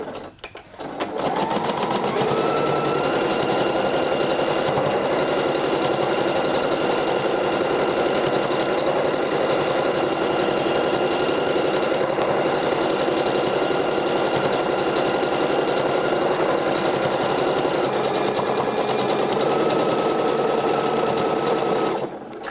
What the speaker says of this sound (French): on va tout simplement venir les piquer à 6 mm du bord à la machine